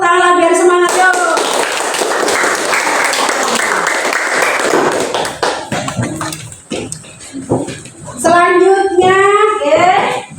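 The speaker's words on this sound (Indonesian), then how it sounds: "Beri tepuk tangan biar semangat yuk." A classroom of students claps for group 1, a burst of close, brisk applause lasting a few seconds that fades into scattered taps, with children's voices talking before and after.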